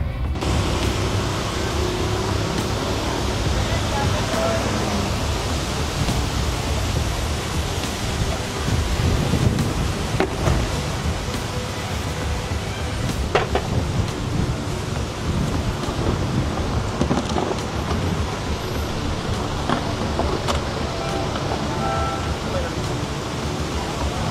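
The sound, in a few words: strong wind outdoors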